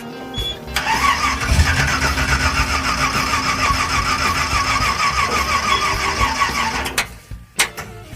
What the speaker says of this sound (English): Remarkably, the engine doesn't want to run.